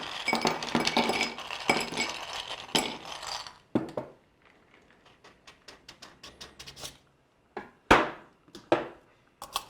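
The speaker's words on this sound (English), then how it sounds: "Put some ice into your cup." Ice cubes dropped into a cup for a brunch cocktail, bright clinks and clatters, a busy burst at first, then scattered single knocks and a few louder hits near the end.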